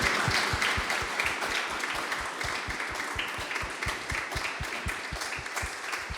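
Audience applause at a live talk and show event, sustained dense clapping from a crowd with a rhythmic beat running through it.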